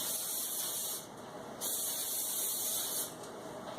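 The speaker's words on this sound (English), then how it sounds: "just spray the pans quickly" Palm oil sprays onto baking pans in three close, steady hissing bursts divided by two short, quieter gaps.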